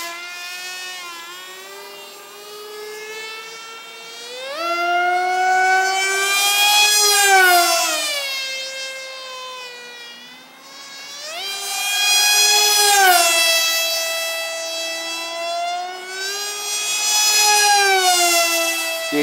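Sonicmodell F1 RC flying wing with a 7-inch prop at full throttle, its motor whining loudly and rising and falling in pitch like a siren as it makes repeated high-speed passes and turns overhead.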